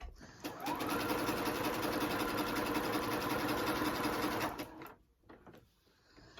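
A sewing machine runs fast and steadily while stitching quilt fabric, a close, even mechanical whir for about four seconds before stopping, followed by quieter handling sounds.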